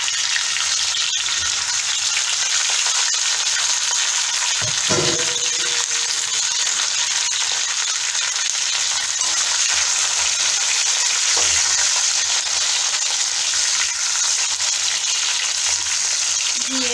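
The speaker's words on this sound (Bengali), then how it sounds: "নাড়তে থাকবো হালকা আঁচে, এটা নাড়তে থাকবো।" Dried raw mango pieces fry in a pan over low heat for a sweet-sour mango pickle with panch phoron, sizzling steadily throughout with occasional scrapes and clinks of stirring, close and clear.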